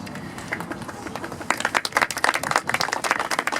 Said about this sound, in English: Everybody else gets a clap too.